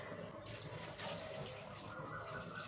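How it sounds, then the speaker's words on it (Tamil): Water streams steadily into a pressure cooker holding cut potatoes, a soft continuous pouring and filling sound, fairly faint, with no talking. "இதை குக்கரில் போட்டு தண்ணி ஊற்றி வேக வச்சுக்கலாம்"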